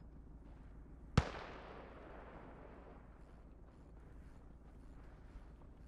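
A single enemy artillery gun fires in the World War II game Call to Arms: Gates of Hell, one sharp loud blast followed by a long rumbling decay over low battlefield ambience.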